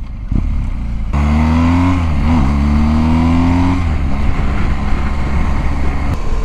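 Engine of a 2022 BMW R1250GS motorcycle under way, a steady loud drone that rises and falls in pitch as the rider rolls on and off the throttle, with wind rush throughout and no talk.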